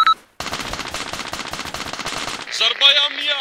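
Rapid automatic gunfire in the combat video game Arma II rattles in a dense, continuous burst, followed by a brief shouted voice near the end.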